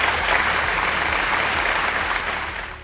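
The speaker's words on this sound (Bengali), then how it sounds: "একটা জোরে হাততালি হোক এদের জন্য।" Audience at a Bengali film award show applauding, a loud, thick roll of many hands clapping at once that stays full and steady, then eases off slightly near the end.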